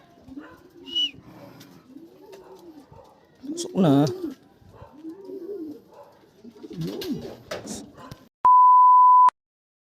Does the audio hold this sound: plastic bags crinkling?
no